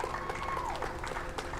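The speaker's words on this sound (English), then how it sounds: "Small crowd, but big cheers." Small crowd cheering and clapping as NASA astronauts emerge for the SpaceX Crew Dragon Demo-2 mission, a brief burst of close applause mixed with shouts and a whistle.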